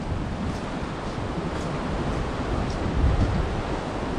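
Sea wind and surf on a beach at Koh Lanta, a continuous broad roar of waves and gusting air buffeting the microphone, steady throughout with a slight swell toward the end.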